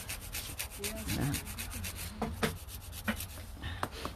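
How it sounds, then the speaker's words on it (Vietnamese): A nail file rasps across a fingernail in short back-and-forth strokes, close and fairly soft, an even scratchy rubbing with small clicks, and no one speaks. "Vũa thẳng nè. Vũa giống như là cái cưa đó, cứ cưa lại mà cưa một đường thôi."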